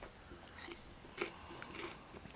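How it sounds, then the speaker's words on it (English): Someone chews and crunches on food close to the microphone, with soft repeated bites and munching sounds at a low level and no talking over them. "The poor listeners are just hearing those munch away."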